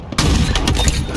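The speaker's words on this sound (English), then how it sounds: "Can't tell where the hell these shots are coming from." Rapid gunfire from a large-team sniper match in Halo Infinite, a dense burst of overlapping shots that starts abruptly and stays loud and continuous throughout.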